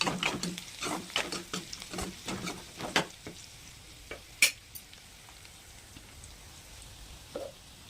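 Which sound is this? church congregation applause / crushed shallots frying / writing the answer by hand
crushed shallots frying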